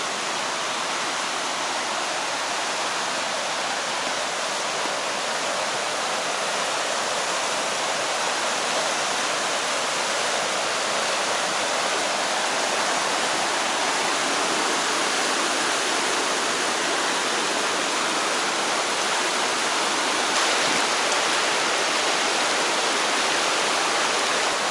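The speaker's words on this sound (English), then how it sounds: "we need to take a break and see this beautiful river" River flowing along a roadside stop roughly 35 miles from Lake Tahoe, a steady, dense broadband rush of water that stays constant and fairly loud throughout with no voices.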